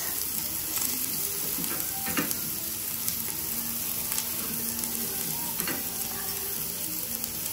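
Garlic sizzles steadily in a hot pan while lechon paksiw is being cooked, giving a continuous crackle with occasional sharper pops and the scrape of stirring.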